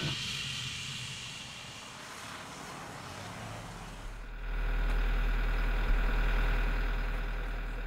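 Inside the cabin of a passenger airplane landing at Sapporo airport, a steady broadband engine roar rumbles on and swells noticeably louder and deeper about halfway through, with no talk.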